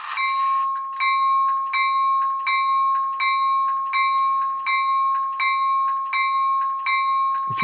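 Locomotive bell from an ESU LokSound sound decoder in an HO scale Amtrak model rings in a steady, even rhythm of about a dozen clear metallic strikes, loud and close with no talking.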